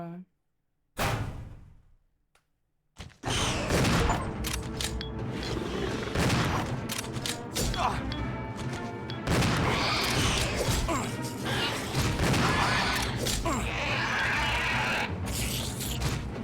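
Gunshots and a thrown Molotov cocktail in the survival horror game Resident Evil 0: a loud burst of crashing, smashing impacts begins after a brief quiet opening, then continues as dense, sustained combat noise over a game soundtrack.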